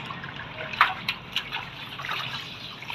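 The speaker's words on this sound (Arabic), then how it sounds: "انا بمشي الميه عشان الوساخه تطلع منه" Tap water running over calf tripe being rinsed, a steady soft trickle and splash with a few brief louder splashes, fairly quiet and close, with no talk.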